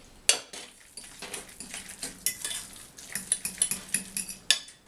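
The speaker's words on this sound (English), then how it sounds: "I'm just mixing this up with a fork" A fork works through soft cooked red lentils in a bowl, giving a run of light metallic clinks and scrapes that quicken into a steady tapping rhythm.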